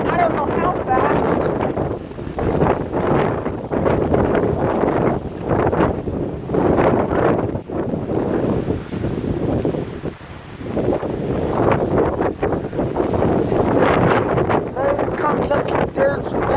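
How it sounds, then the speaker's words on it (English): Strong gusts of wind on a very windy day buffet the microphone in loud continuous rumbling blasts, with someone talking over the roar. "Wind's blowing like I don't know how fast."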